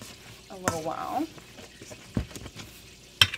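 Cooked sweet potatoes mashed in a pot on the stove, a few soft squelching thumps and scrapes spaced unevenly, with a brief voice and quiet sizzling in the background.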